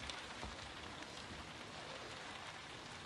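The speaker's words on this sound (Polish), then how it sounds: "Lubię wychodzić na deszcz i moknąć." Rain falls steadily as a soft, even patter, faint and without voices.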